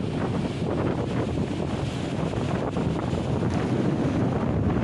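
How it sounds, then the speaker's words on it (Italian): Strong wind gusts roar steadily and loudly during a winter storm with heavy sea swells on the Calabrian coast, a dense unbroken rush that buffets the microphone. "Mareggiate, piogge, forti raffiche di vento e temperature in calo."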